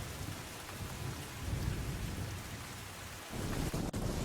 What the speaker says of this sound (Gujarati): બનાસકાંઠાના દાંતા તાલુકામાં ભારે વરસાદ પડી રહ્યો છે